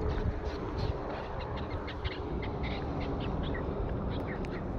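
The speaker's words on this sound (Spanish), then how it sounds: "Cómo han salido los pájaros" Birds call repeatedly outdoors, short chirps and cries scattered over a steady broadband outdoor hiss at moderate distance, with no talking.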